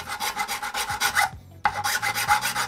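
3D-printed plastic parts for a Bambu Lab AMS upgrade are forced together by their tabs, giving steady rasping, rubbing scrapes close up in rhythmic strokes with a brief pause midway.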